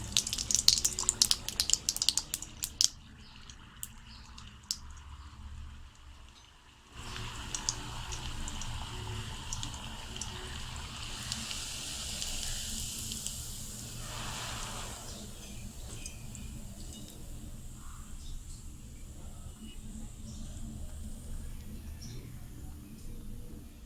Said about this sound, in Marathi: तेल तापलं आहे. आता अनारसे आपण आतमध्ये तेलमध्ये सोडूया.